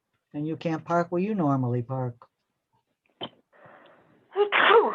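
A single sharp sneeze bursts out near the end, after someone finishes speaking at a zoning appeals board meeting and a brief pause with a small knock.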